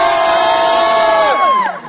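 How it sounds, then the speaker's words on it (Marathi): A group of travellers on the last day of their trip cheers loudly and close up, with high excited shouts and whoops rising together and then trailing off. "तो सध्या जल्लोष आहे."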